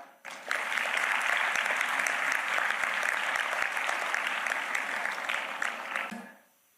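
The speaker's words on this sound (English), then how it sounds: "This is a clap." Audience applause fills a school annual day celebration at a girls' school, a dense, even burst of clapping that rises quickly, holds steady for about six seconds, then fades out.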